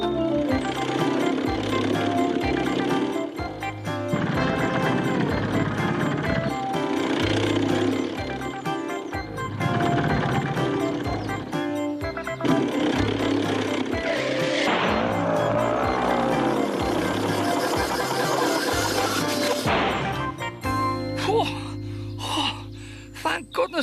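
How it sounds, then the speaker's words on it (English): A runaway lawn mower in a cartoon drones on loudly and without a break, rough and rattling. It surges and shifts in pitch, then cuts out near the end, leaving a low hum. "Turn the mower off. I'd better try and catch it."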